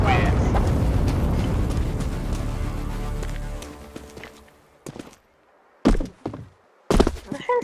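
A bomb goes off in Counter-Strike 2 with a loud, deep roaring blast that fades slowly over about four seconds, followed by a few sharp thuds and knocks.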